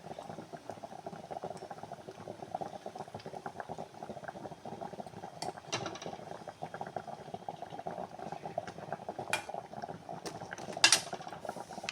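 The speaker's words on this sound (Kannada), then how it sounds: "ಸಾಂಬಾರು ಫುಲ್ ಕುದೀತಾ ಇದೆ ನೋಡಿ." Sambar at a full boil in a pot bubbles continuously with a dense, even burble, with occasional faint clinks near the end.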